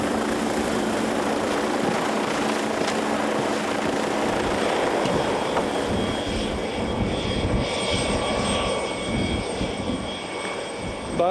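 A helicopter flying, its steady engine and rotor drone filling the scene continuously at fairly close range with no voices over it.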